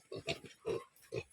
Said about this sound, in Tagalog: Iyan mga pare koy ang ating baboy oh.